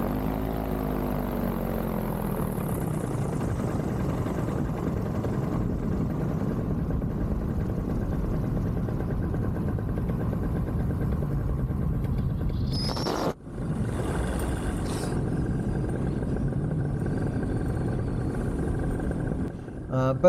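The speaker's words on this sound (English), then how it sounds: "I gave the engine a little gas there because I don't want it to quit" A two-stroke engine on a small powered aircraft drones steadily in flight, with a brief burst of added throttle midway before settling back into the constant buzzing hum, loud and close throughout.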